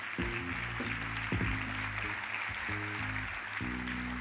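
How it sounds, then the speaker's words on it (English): An audience at a school district awards event claps for the finalists, a moderate, fairly even patter of hands heard in a hall alongside steady tonal background sound. "Let's give all of our finalists a round of applause."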